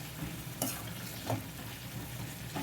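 Tomatoes cooking in a pan for tomato pachadi, stirred with a utensil: a soft steady sizzle with three or four brief scraping strokes, close and quiet, with no talking.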